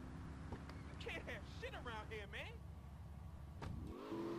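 A car engine in the video game GTA Vice City hums steadily and rises into a rev near the end, while a voice talks over it.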